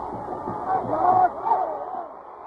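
A football stadium crowd in 1982 roars and swells in reaction to a 33-yard field goal attempt, a muffled, distant surge of cheering and shouting that peaks and fades.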